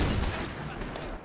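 Tank cannon fire in the World War II game Call to Arms Gates of Hell on the Eastern Front, a loud sustained roar and rumble of gunfire with a dense low boom, no talk over it.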